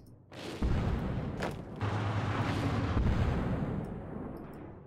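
Soviet rocket artillery firing in a strategy video game: a dense, continuous roar of launches and booms that swells in quickly and holds loud for several seconds, with a few sharper bursts on top.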